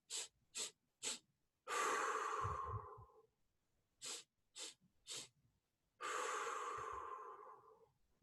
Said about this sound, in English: our bunny breathing is 3 or 4 quick breaths like that, and then we blow it all out